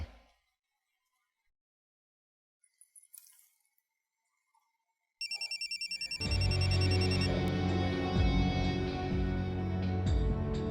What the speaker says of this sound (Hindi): फोन नहीं उठा रहे, लगता है